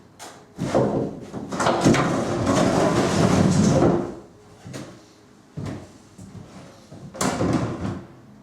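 Wooden pallet-wood cabinet doors are fitted and moved by hand, giving a run of knocks, thuds and scraping wood handling, dense in the middle, then a few separate clunks and bumps close by, with no talking.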